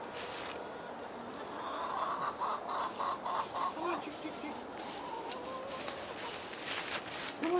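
Chickens let out from behind a shed cluck softly at a distance while a person calls to them repeatedly in a lilting voice, the birds' murmurs faint under the calling.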